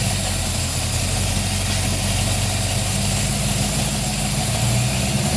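A supercharged Corvette roars on a dyno during a pull, its engine a loud, dense, continuous low rumble with heavy vibration that dominates close up.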